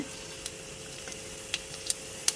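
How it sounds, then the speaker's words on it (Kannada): Mustard seeds, cumin and asafoetida sizzle in hot oil, a steady soft hiss with several sharp pops and crackles spaced through it, close and alone. "ಎಣ್ಣೆ ಬಿಸಿ ಆಗ್ತಾ ಇದ್ದಾಗೆ ಸಾಸಿವೆ, ಜೀರಿಗೆ ಹಾಗೂ ಇಂಗು ಹಾಕ್ಕೊಳ್ತಾ ಇದ್ದೇನೆ"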